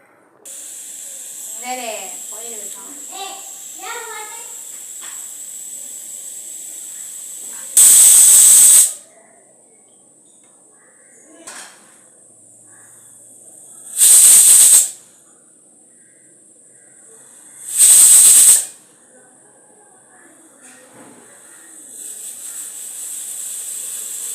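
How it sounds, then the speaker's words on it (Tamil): Pressure cooker on the stove cooking mango jam releases three loud, piercing steam whistles, each lasting about a second and spaced several seconds apart, over a steady background hiss. "இப்போ இது எல்லாத்தையும் ஒரு 5-6 விசில் வர வரைக்கும் நம்ம இதை வச்சுக்கலாம்."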